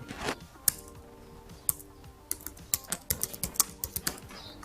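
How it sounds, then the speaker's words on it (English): Someone types on a computer keyboard, close and fairly quiet: a few scattered keystrokes give way to a quick run of crisp clicks near the end. "So I'm going to type that."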